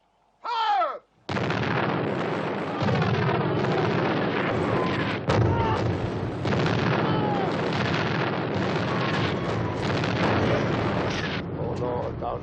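Cannons and guns fire at a battle reenactment in a dense, loud roar of blasts and rumbling that barely lets up, with a sharper boom partway through.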